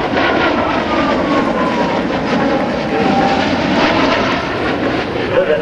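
An F/A-18F Super Hornet jet at an air show demonstration roars overhead in a loud, continuous engine wash with slowly shifting tone, while an announcer talks faintly underneath.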